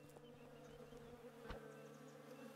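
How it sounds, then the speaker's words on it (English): Bees buzz in the survival video game Above Snakes, a faint, steady drone that continues through the whole stretch with no talk over it. "More bees."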